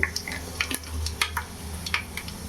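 Cumin, fenugreek and black pepper fry in hot oil for a sankara fish curry, a close, steady sizzle broken by sharp crackling pops and light stirring, with no voices.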